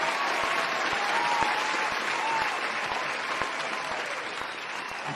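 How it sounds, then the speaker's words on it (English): Steady applause during a podcast episode, a continuous mid-level wash of clapping with a faint recurring low thump throughout. "let me just give this dude his applause"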